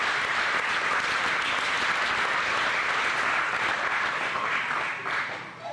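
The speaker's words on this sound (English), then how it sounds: "Let's give a round of applause to our first Little Miss Hartford" A crowd applauds at the Little Miss Hartford 2012 pageant, a broad, sustained wash of clapping that holds steady for several seconds before easing off at the end.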